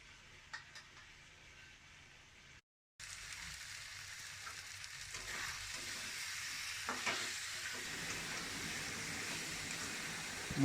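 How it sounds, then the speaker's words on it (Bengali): Spices sizzling and sautéing with chicken in goat (mutton) fat in a Bengali home kitchen, a quiet steady frying hiss with occasional stirring scrapes, briefly cutting out before resuming slightly louder. "মশলাটা কষানো হচ্ছে"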